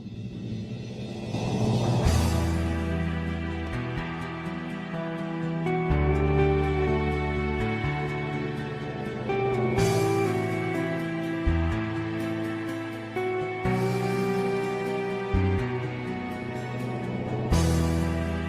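Recording of orchestral rock playing, with sustained layered tones, swelling chords and crashing cymbal accents, loud and full, with no talking over it.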